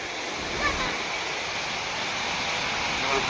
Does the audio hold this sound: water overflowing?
yes